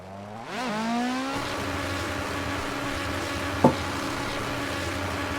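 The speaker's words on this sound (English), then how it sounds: "I think it's a K-series sound, if I'm not mistaken. It definitely sounds like a K20." A Honda K20 four-cylinder engine from a video game car pack revs up smoothly, then holds a steady, buzzy drone with one brief sharp blip partway through.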